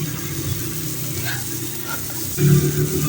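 Breakfast ingredients cooking in a pan give a soft steady sizzle with faint stirring scrapes, close by, rising slightly louder near the end.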